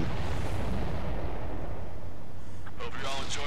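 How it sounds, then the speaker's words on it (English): Explosion in the Ace Combat 7 video game: a loud, sustained low rumbling roar fills the clip, with brighter crackling bursts toward the end and game radio chatter mixed in. "explosion."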